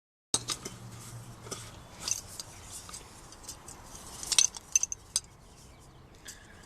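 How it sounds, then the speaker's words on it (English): Parts of a Stansport camping stove being assembled, with scattered light metallic clinks and taps, some sharper clicks bunched near the middle, fairly quiet and close. "So let me set up the stove and we'll see how."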